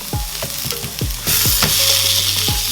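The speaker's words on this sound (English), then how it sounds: "So then we are grilling it for some time" A beef burger patty sizzles and fries steadily in a grill pan on medium heat with no oil, loud and close, with repeated scraping and clanking of a utensil against the pan.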